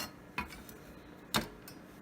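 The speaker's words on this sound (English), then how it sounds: "I'm going to go ahead and chop all these now" A kitchen knife chops Brussels sprouts on a cutting board during meal prep, two sharp, distinct cuts about a second apart, close and clear in a quiet room.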